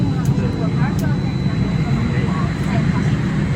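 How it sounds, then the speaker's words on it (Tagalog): A passenger airplane in the Philippines begins to taxi, with a steady low jet-engine rumble and cabin hum filling the space from up close, continuous and even throughout. "umaandar na po ang aeroplano"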